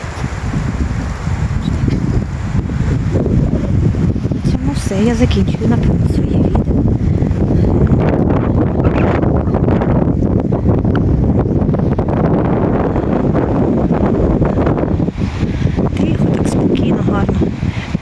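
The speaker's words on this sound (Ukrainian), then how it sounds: "А вітер який." Strong wind buffets the microphone with a constant low roar and rustling, while a person speaks briefly over it.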